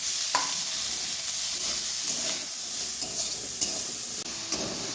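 Chopped onion, garlic, ginger and spring onion sizzle in a hot pan under a steady hiss, with soft scrapes and taps of a spatula as they are stirred.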